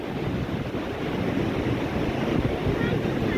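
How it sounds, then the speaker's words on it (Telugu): Strong wind gusts at the Sadarmatt barrage roar steadily into the microphone, mixed with rushing water from the dam, loud and continuous with no pauses. "ఘోరంగా అయితే గాలి వస్తున్నది"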